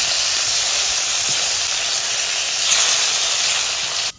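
Steam hisses loudly and steadily from a cooking pan of red bhetki fish curry with bitter gourd as the lid comes off, a dense broad rush that holds for about four seconds before cutting off abruptly.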